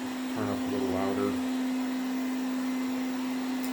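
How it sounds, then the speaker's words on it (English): The fan of a Ziglint robot vacuum cleaner in brute force mode gives a steady, even whine with a constant tone throughout, and a voice speaks briefly near the start. "you can hear the exhaust fan kind of pick up, or the vacuum fan turn up a little louder"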